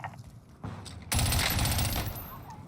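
Pistol gunfire in the Warzone video game: sparse shots at first, then a loud, dense burst of rapid fire that fills the rest of the short moment.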